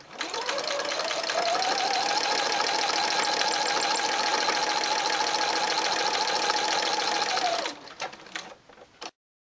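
A sewing machine runs steadily, stitching a tiny line across the top of fabric patchwork sections, a continuous mechanical whir with rapid needle clatter for about seven seconds before stopping with a few faint clicks.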